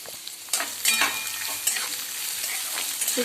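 Finely chopped onions, two medium ones, hit a hot pan and fry for a puffed-rice sushila, a loud close sizzle that surges as they go in, with stirring scrapes and a continuing crackle.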